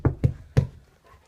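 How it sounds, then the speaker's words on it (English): A puppy's feet pound on the floor in three heavy, close thuds, the third a little louder, followed by a faint, quiet tail. "You just hear his pounding like bah, bah, bah, bah, every time you walk."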